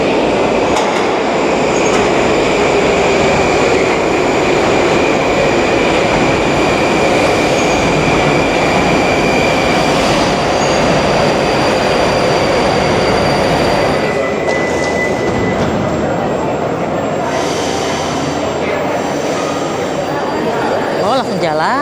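Tashkent metro train pulling out of a deep underground station built in 1977, a loud steady rumble of wheels and motors with rising squeal, the carriage noise filling the whole stretch while people speak faintly beneath it.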